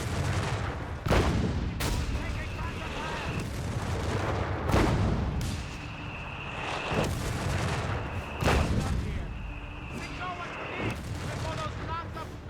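Heavy tank cannon blasts in the Company of Heroes 3 strategy game, about five loud booming shots spaced a second or more apart over steady battlefield rumble and voices.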